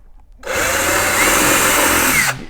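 A power drill bores a hole for a recessed lock during an arcade cabinet restoration. A single sustained whine starts abruptly, holds steady and loud for about two seconds, then cuts off.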